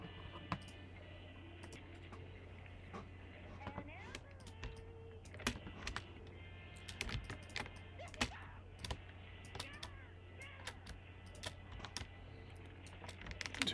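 Bursts of computer keyboard typing while a sign is entered, fairly close and clear over a steady low hum, with scattered irregular keystrokes across the clip and quiet background speech.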